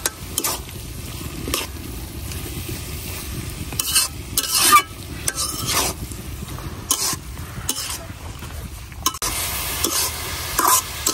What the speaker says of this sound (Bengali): কপিটা আমার খুব সুন্দর করে কিন্তু ভাজা হয়ে গেছে